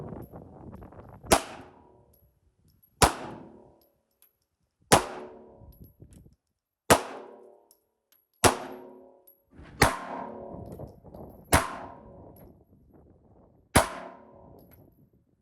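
Gunshots ringing off steel targets at an outdoor shooting range, eight sharp reports at roughly two-second intervals, each followed by a metallic clang and a decaying ring, with no talking.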